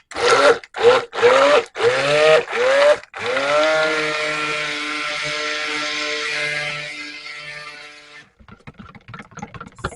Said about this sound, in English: Now I'm going to give it a little spin after I get all of the air bubbles out of my stick blender.